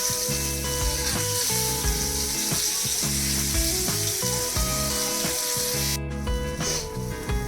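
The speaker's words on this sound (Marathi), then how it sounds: "तेलामध्ये फ्राय करून घेऊया. गॅस कमी जास्त करून फ्राय करून घेऊया." Bangda mackerel fish fry in hot oil in a pan, giving a steady, close, continuous crackling sizzle throughout with no talk.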